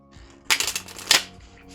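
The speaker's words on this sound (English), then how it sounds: "Okay, that was a loud shuffle." Oracle cards shuffled right next to the microphone, two loud, crisp riffling bursts in quick succession, close and dry with no talk.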